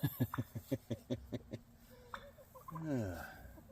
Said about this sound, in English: Some ducks in the pond, I think.